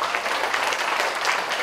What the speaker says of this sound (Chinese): 请掌声响起